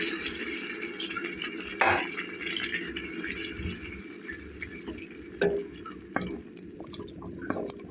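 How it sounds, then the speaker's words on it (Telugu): Water poured into a cooking pot of egg and potato curry trickles and splashes steadily at low level, with a few sharper drips and clinks standing out. "వాటర్ వేసుకోవాలండి"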